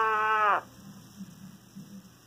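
A single short, wavering sheep bleat rings out clearly, then cuts off, leaving only a faint low hum.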